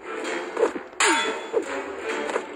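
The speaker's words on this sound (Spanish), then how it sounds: "Suena como si le pegaras a una olla en la cocina" Metallic clangs from a video game hit, like striking a kitchen pot, ring out several times in quick succession with a sharp loud strike in the middle.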